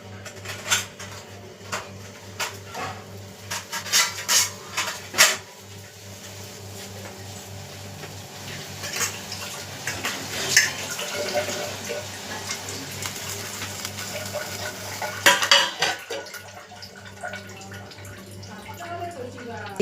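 A pan set on a kitchen stove is covered with a lid, heard as sharp metallic clanks and clatters among other utensil knocks, with a voice talking over the scattered bursts.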